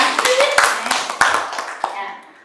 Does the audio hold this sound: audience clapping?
yes